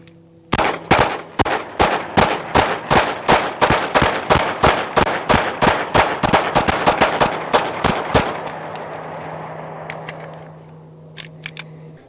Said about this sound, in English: we're gonna shoot a full magazine at the B